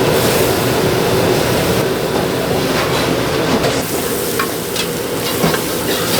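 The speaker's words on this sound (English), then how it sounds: "He just threw the salt and pepper Mantis shrimp in there. They're frying it up now." Dense, loud sizzling of salt and pepper mantis shrimp frying in hot oil at a Filipino seafood market, steady throughout with some clatter and busy background noise.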